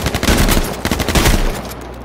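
Shotgun blasts in the video game H1Z1, a burst of loud, close gunfire with several sharp reports clustered over about a second and a half, then tailing off into quieter ambience.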